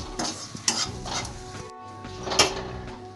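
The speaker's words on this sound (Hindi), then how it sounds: "मैदा मस्के में अच्छे से भून चुका है" Maida flour roasts in butter in a pan over a slow flame, a low sizzle broken by scraping strokes of a spoon and light clinks against the pan, no talking.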